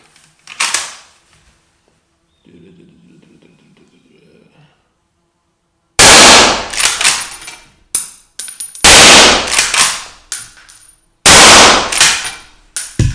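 A Mauser M25 Max straight-pull rifle fires .308 rounds with 178-grain bullets, several loud sharp shots with ringing tails, separated by metallic bolt clacks and a brief quiet mechanical whir between shots.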